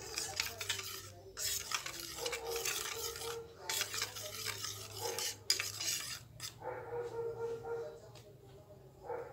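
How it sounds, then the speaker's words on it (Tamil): Calcium sulphate powder mixed with water is stirred in a container, giving a quiet, repeated scraping and clinking of a utensil against the vessel, with faint background sounds between strokes. "இப்போ இதோட கொஞ்சம் வாட்டர் ஆட் பண்ணிவிட்டு இதை வந்து நல்லா மிக்ஸ் பண்ணுங்கள்"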